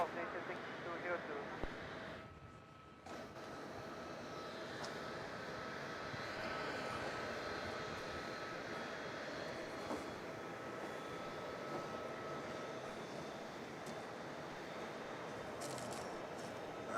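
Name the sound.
aircraft taking off from runway 34 at Melbourne Airport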